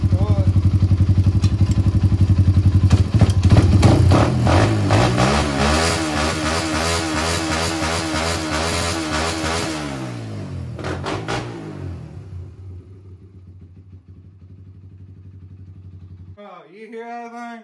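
A rebuilt 1991 Honda TRX 250X quad engine idles and revs loudly up close, a steady rumble swelling through rising revs before settling back, then cutting out, with brief talk near the end.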